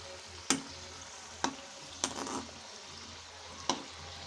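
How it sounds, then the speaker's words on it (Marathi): Puris for panipuri fry in oil in a kadai, a soft steady sizzle punctuated by four sharp scraping or tapping clicks of a utensil, close and fairly quiet, with no talk. "अशा प्रकारे आपण सगळ्या पुऱ्या तळून घेणार आहोत."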